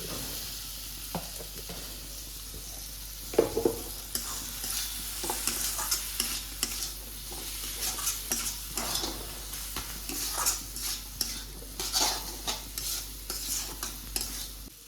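Potatoes fry in hot oil with spices, a steady sizzle broken by repeated scraping stirs and clinks of a spoon against the pan, close and fairly loud, with no talking.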